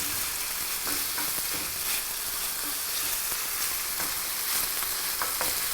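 Ginger frying in a pan for a chicken and vegetable stir fry, a steady close sizzle with occasional stirring clicks and scrapes throughout, no voices.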